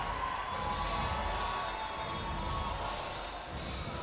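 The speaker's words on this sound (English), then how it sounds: "What a crowd here tonight at the Winsport Arena." A packed arena crowd roars continuously at a para ice hockey gold medal game between Canada and the USA in Calgary, a dense, loud wall of cheering with a commentator talking over it.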